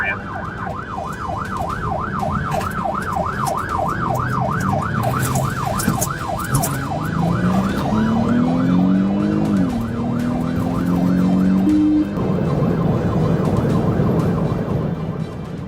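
A police siren wails continuously and loudly throughout a high-speed chase of a GMC Envoy, its rapid warbling cycle steady over heavy road and engine roar, with a second lower rising tone sweeping in partway through.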